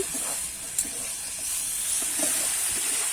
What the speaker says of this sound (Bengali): আমি একটু ভালো করে কষিয়ে নেব